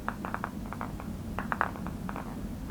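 Faint, quick metallic clinks tick irregularly over a low background rumble, two juggling spheres lightly knocking together as they spin in a palm.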